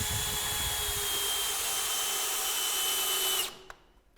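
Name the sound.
driving 80mm screws into roof window frame brackets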